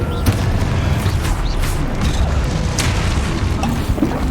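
Confringo blasting spell explosions in Hogwarts Legacy, dense, loud booming and rumbling blasts layered with crackling bursts, continuous and close throughout.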